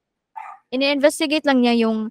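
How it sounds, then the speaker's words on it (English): Dogs bark and yip indoors, with short sharp calls mixed in with a person talking close by. "Sorry for my dogs."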